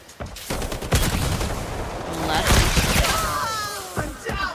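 Rapid gunfire bursts and a grenade blast from an online shooter video game, loud and dense, with machine-gun rattles and booms layered under game voice lines.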